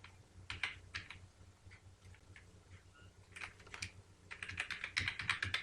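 Close, fairly quiet keyboard typing as a password is entered on a computer login page, with scattered single keystrokes at first, then a denser run of rapid taps toward the end and no voices.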